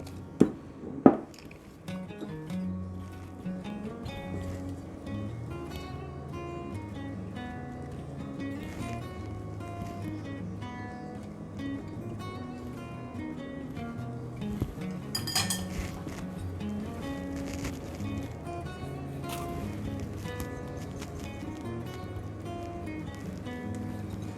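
Dry ingredients are stirred into Runeberg torte batter in a bowl, with repeated scraping and clinking of utensil against the bowl over soft background music, and no talk.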